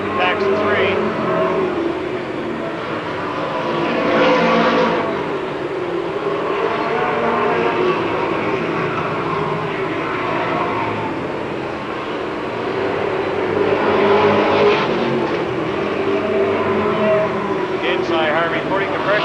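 Race cars at a 1993 MASCAR feature race circle the track in packs, their engines a continuous roar that swells and fades as groups pass, with a voice talking over it.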